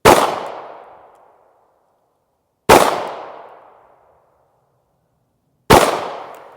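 Three sharp, loud pistol shots fired singly a few seconds apart, each cracking hard and then ringing out in a long decaying echo.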